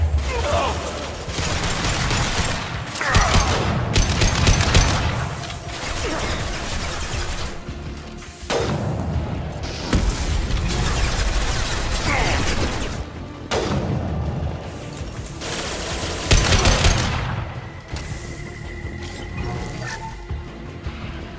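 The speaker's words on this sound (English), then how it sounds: "Taking fire." Mass Effect 2 combat plays loud and dense, with repeated bursts of gunfire, booms and clanking mechanical hits in clusters over a rumbling backdrop, spaced by short lulls, with a voice speaking briefly.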